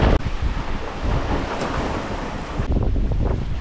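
Ocean swells and steady wind buffet a sailboat in open water east of Peter Island, with a loud, continuous rush of surf and wind noise across the microphone and a sharp gust-like break near the start.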